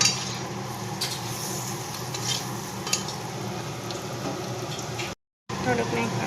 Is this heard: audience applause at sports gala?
no